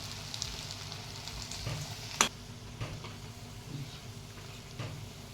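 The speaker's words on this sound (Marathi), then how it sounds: "तळून घेऊयात आपण आता।" Upvas bhaji, fasting fritters, deep-fry in oil over a low flame with a quiet, continuous sizzle and bubbling, broken by one sharp tick and a few soft stirring knocks.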